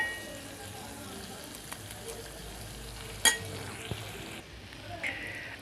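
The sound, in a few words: corn and beans added to frying onions in a pan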